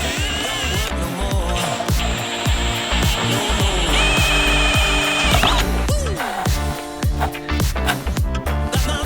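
A power drill whines and grinds repeatedly into the metal of a turbo on an LS1 turbo build, with bursts of rising and falling motor pitch and rattling mechanical clatter, loud and close.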